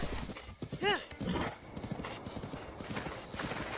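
A horse in the video game Breath of the Wild gallops with rapid clip-clop hoofbeats and gives one clear neigh early on, loud and close.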